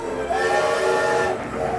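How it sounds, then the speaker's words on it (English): A sustained, steady train whistle blast, harmonic and moderately loud, holds for over a second over a rumbling background before fading slightly. "The Polar Express let out a loud blast from its whistle"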